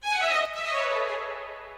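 Dry staccato string sample in FL Studio, heard without reverb or effects: a bright, bowed-sounding tone with a falling pitch glide that sustains for under two seconds before a brief click at the end.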